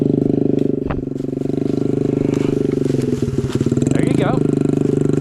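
A dirt bike engine labours in first gear as it climbs a hill, a loud steady drone with a few revving surges, heard close.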